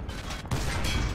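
A tank cannon fires in a video game battle: a short, dense blast of booming noise that drops briefly and then returns as a sustained heavy rumble with mechanical clatter underneath.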